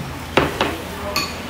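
A utensil scrapes and clinks against a pan while stirring food during cooking, giving three sharp metallic hits spaced apart over a low background hum.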